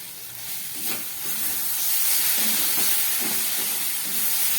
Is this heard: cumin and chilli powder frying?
yes